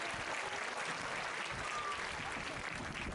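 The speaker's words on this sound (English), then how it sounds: "So we can give them a round of applause." A large crowd at a high school commencement applauds the school band, steady dense applause heard from a distance throughout, with faint voices underneath.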